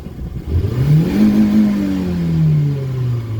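A Renault Twingo engine revs toward 6500 rpm at the Toruń race track, climbing in pitch, holding a loud, close drone, then sagging slightly as it runs on steadily.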